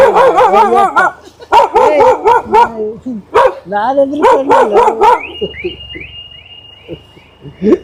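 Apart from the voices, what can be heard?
dog barking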